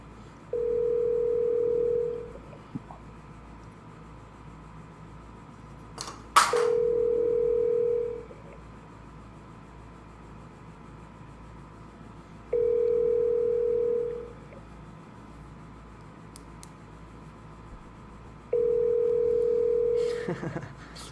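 A telephone line gives four identical steady tones, each about two seconds long, separated by pauses, with a few sharp clicks between them, on a call-in sports radio show.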